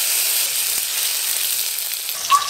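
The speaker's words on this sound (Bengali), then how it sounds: "এবার ফোড়ন দিয়ে মশলা কষার পালা।" Panch phoron, dried chilli and chopped tomato fry in hot oil in a pan, giving a close, steady, hissing sizzle with a small flare-up near the end.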